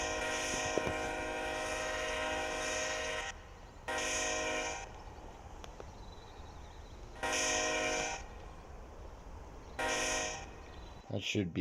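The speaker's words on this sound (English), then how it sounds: "And speaking of trains, I hear one going through Lowville right now." A train horn sounds in four long blasts with gaps between them, carried over the steady low rumble of a train rolling through Lowville at a distance.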